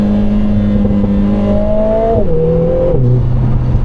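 A supercharged 3.5L V6 in a manual Lotus Emira launches hard, the loud engine tone rising steadily. Two quick gear shifts cause brief dips before the revs climb again.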